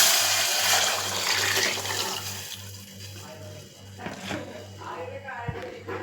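Tamarind water poured into simmering onion rasam in a home kitchen, a splashing liquid pour that comes and goes over a steady low hum, with a brief clatter toward the end.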